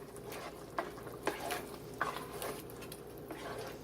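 A spoon stirs seasoned salt into a pot of hamburger vegetable soup, soft scraping and a few light knocks against the pot over a quiet background.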